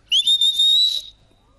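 Shepherd's sharp whistle commands to a working sheepdog at a sheepdog trial in Castellar de n'Hug: a bright rising whistle that holds steady for about a second, loud and close, then stops, with no talk.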